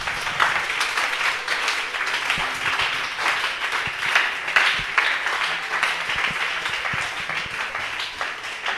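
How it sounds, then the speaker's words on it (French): Church congregation claps and cheers during a French-language prophetic service, a sustained wash of applause with uneven surges and scattered sharp claps, loud and close throughout. "Est-ce qu'on peut acclamer?"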